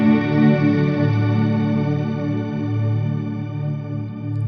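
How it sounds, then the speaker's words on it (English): A single sustained electric guitar chord through a shimmer reverb pedal swells and shimmers, drenched in lush reverb with a bright, slowly evolving wash of overtones. "Now it's just the reverb pedal."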